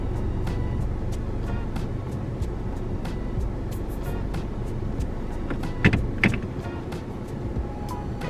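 A car rolls slowly while being steered into a parking spot, giving a steady low engine and road rumble with a few brief clunks and rattles near the end.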